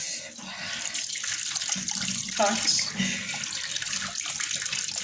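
Cold tap water running steadily into a sink, a broad continuous rush under a voice.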